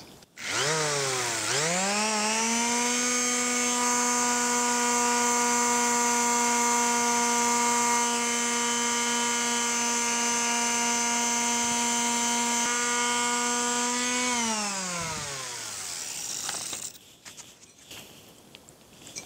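A power sander with 220-grit paper smooths a cast piece after the paint has been stripped. The motor whines up, holds a loud, steady pitch for about thirteen seconds, then winds down and stops.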